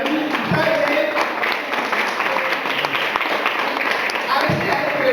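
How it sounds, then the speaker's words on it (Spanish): Church congregation applauding during a sermon, a dense, steady wash of clapping that holds for several seconds, with voices talking over it. "es cuando le dan aplauso al Señor"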